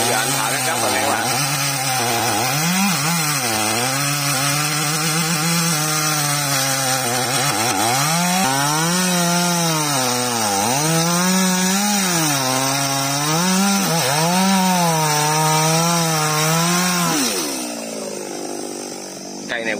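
A chainsaw cuts through a very tall, thick bạch đằng tree, its loud engine droning close by with repeated rising and falling revs as the chain bites the wood, then easing off near the end.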